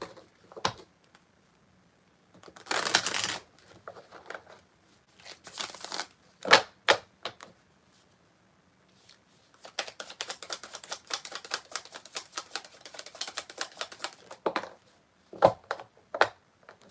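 Cards are riffled and shuffled in bursts of rapid flicking and tapping, with quiet gaps between.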